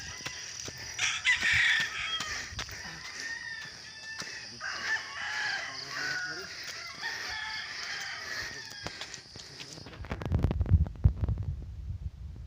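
A rooster crows repeatedly at a distance, the calls drawn out and layered, followed by a few low thumps near the end.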